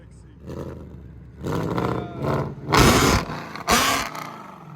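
A 720 hp Procharged Ford Mustang GT 5.0 with long-tube headers and a Solo Performance exhaust revs several times, each burst rising into a loud, raspy roar before dropping back, close by, with someone talking between revs.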